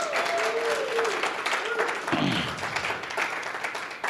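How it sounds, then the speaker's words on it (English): A church congregation applauds a visiting guest minister, Reverend Kit Holmes, with soft, scattered clapping heard under a speaking voice and some room noise. "Let's give her another round of applause."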